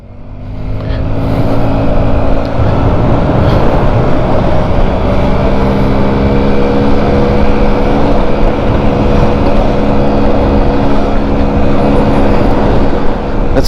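A Honda Scoopy Metropolitan scooter engine drones loud and steady through a lap, its pitch rising and holding near the top as the ride goes on, with wind rush throughout.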